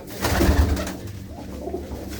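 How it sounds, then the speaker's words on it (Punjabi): Large pedigree pigeons give a close, continuous low cooing, swelling loudest early, then settling into a softer steady purr with no voices over it. "ਕਹਿੰਦੀਆਂ ਕੋਹਾਂਦੀਆਂ ਨਸਲਾਂ ਦੇ ਕਬੂਤਰ ਆ ਬਈ"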